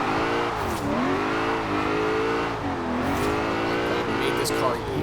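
Virtual 1970 Buick GSX Stage 1 muscle car driving at night in Forza Horizon 4, its engine droning steadily and loudly with repeated rises and dips in revs through gear changes, under a speaking voice.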